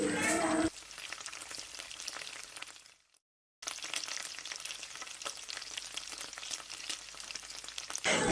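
Two chopped onions sauté in a pan for a Kerala-style chicken curry, giving a steady soft sizzle and light frying crackle with a brief quiet gap partway through.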